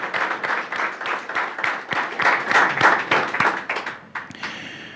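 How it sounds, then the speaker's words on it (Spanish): A church congregation gives the Lord a loud round of applause during a Spanish-language sermon: dense, steady clapping from many hands that swells and then tapers off toward the end. "¿Quién quiere darle un fuerte aplauso al Señor?"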